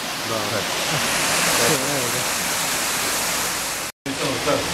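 A continuous loud rush of water released into a watermill in Donji Vijačani roars close by, with voices faintly underneath and a brief dropout near the end.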